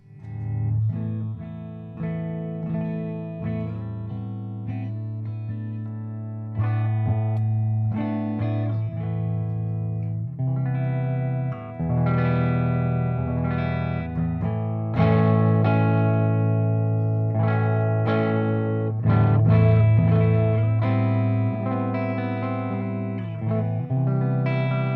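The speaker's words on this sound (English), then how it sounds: "I think this amp does like cleans and light breakup really well." Electric guitar through a Marshall Vintage Modern amp with untouched knob settings, ringing chords and single notes at clean to light-breakup gain, steady and full for the whole stretch with no talking.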